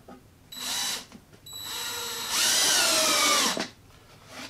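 A power drill whirs in three bursts, the last one longer and straining as it drives a 1 5/8 inch deck screw flush into wood, close and loud.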